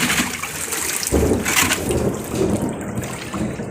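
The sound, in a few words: heavy rain pouring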